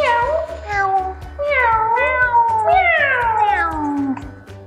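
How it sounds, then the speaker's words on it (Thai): Two cats, one black and one orange, meow in a series of drawn-out, rising and falling cries, loud and close, over a rhythmic low thumping beat. "This is a black cat and an orange cat."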